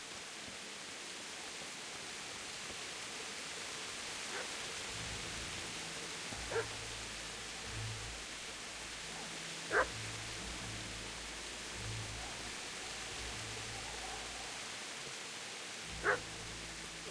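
A dog barks faintly in the distance in the video game Kingdom Come Deliverance, three or four short, sparse yaps spread over a quiet, hissing outdoor ambience with a low hum and no talking.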